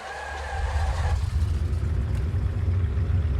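An inverted V8 engine on a Bf 108 Taifun starts up in Microsoft Flight Simulator, a low rumbling idle settling in after a brief higher whine. No speech is heard.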